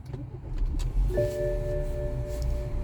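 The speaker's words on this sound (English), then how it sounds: "I'm gonna start the car." A 2012 BMW 528i engine cranks and catches about a second in, then settles into a steady close idle with a faint whine, no talk.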